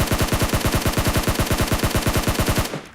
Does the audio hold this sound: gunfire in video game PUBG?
yes